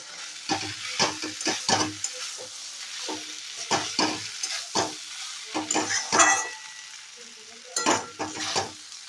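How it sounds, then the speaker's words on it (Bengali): Fried potatoes and rice stirred in a pan for a fish-head muri ghonto, with repeated loud scraping and clattering strokes of a spatula in bursts over a soft sizzle, close and without speech. "আমি এখানে চালের সঙ্গে আলুগুলোকেও একটু নাড়াচাড়া করে নেব"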